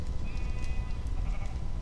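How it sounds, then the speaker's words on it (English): A sheep bleats in the Minecraft video game, a single thin drawn-out call standing out over a steady low rumble of game background noise. "that sheep is still floating there from when I pushed him in"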